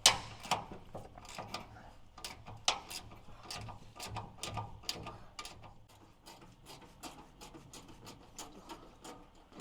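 Ratchet clicking steadily while undoing 10 mm bolts on a parking brake line during a 4-inch lift install on a Suzuki DB52/DA63, a rapid run of sharp, close pawl ticks in uneven bursts, with no voices.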